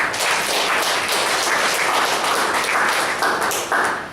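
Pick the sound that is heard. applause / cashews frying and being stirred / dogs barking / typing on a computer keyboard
applause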